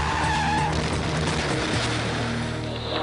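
A race car's tires skid and squeal as it spins out on the track, a loud continuous screech over a roaring engine lasting a few seconds.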